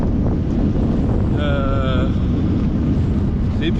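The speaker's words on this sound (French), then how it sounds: "C'est épuisant le vent, épuisant. Ça donne mal au crâne, ça fait beaucoup de bruit." Strong wind roaring across the microphone of a gravel cyclist on a long ultra-distance ride, a loud, constant buffeting rush with a brief whistling tone partway through.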